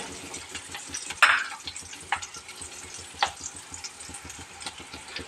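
Curry leaves fry in hot oil for an okra curry and are stirred through. A steady close sizzle carries a few sharper crackling pops and the scrape of stirring.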